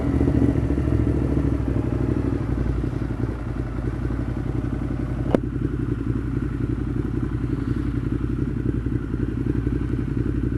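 A 2015 Ducati Monster 1200 fitted with a Termignoni exhaust idles steadily nearby, a loud continuous rumble with a single sharp click partway through and no talking.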